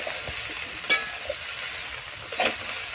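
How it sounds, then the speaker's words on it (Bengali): Food coated with turmeric powder and salt is stirred in a pan. A low, steady frying hiss runs throughout, with a couple of sharp clinks from the utensil against the pan, and no talking. "এর জন্য ক্রমাগত কন্টিনিউয়াসলি এটাকে নাড়তে হবে"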